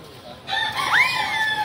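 A single bird call rings out, a rising then falling whistled sweep, clear and fairly close against faint background hiss.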